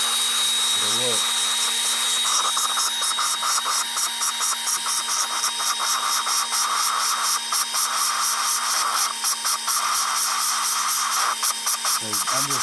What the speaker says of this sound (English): So I'm just listening to it grind. See how smooth it's sounding there?